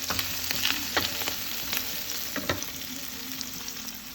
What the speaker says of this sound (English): I see that the garlic is burning a little bit